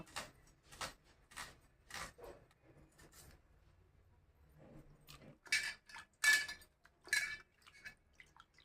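An onion being chopped with a knife on a board in a home kitchen: a slow series of about eight sharp, separate cuts, spaced unevenly and heard close, with quiet pauses between them.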